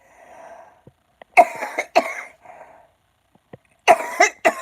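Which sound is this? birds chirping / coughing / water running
coughing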